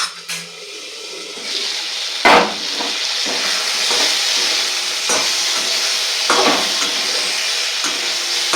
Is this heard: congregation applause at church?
no